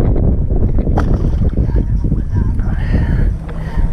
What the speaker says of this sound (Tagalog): Medyo malakas lang talagang hangin ngayon